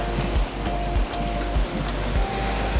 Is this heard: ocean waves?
yes